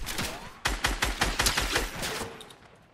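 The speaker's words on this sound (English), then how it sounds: "Oh god, we're getting sniped at." Sniper and gunfire exchange in Fortnite, a rapid volley of sharp cracks roughly a dozen shots in quick succession, loud and close, then tapering off.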